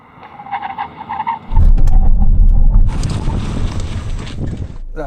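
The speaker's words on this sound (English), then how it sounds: "Emergency stop time from 60 miles an hour." A Rolls-Royce Phantom brakes hard in an emergency stop from 60 mph. A low, heavy roar and rumble surges in suddenly and holds loud, then eases into rushing noise, as though heard from inside the car.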